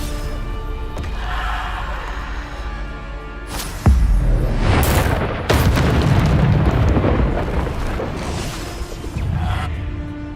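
Bombarda explosion spell going off in the Hogwarts Legacy video game, with loud booming blasts over a steady rumbling battle din, including a sharp impact near the four-second mark and another around five and a half seconds.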